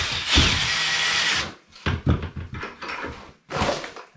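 A power drill fitted with a mixing paddle churns Durabond joint compound in a bucket, a loud whirring burst followed by shorter stop-start runs and scraping knocks, close by.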